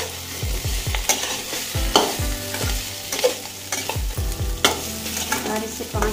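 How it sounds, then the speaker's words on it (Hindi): Cumin potatoes with salt and chopped green chillies are stirred in a pan, with repeated close scraping and knocking strokes of a spoon over a soft sizzle, each stroke landing in a loose rhythm. "और अच्छे से इसे मिक्स करेंगे"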